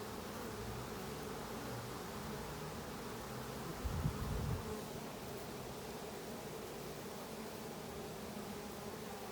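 Honey bees buzzing over hive frames during an inspection, a steady, dense hum throughout with one brief, louder swell near the middle.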